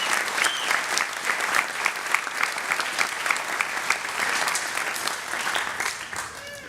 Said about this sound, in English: Let's give a round of applause to the board and Dr. Felty.